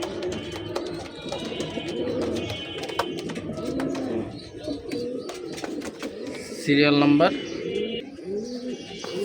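A pair of rain-wet almond male Giribaz pigeons coo repeatedly in low, rolling bursts close by, with a louder burst near the end, while someone talks over them.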